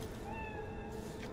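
A cat meows in Cyberpunk 2077, a steady mid-pitched call held across the short span over a constant, dense game background hum.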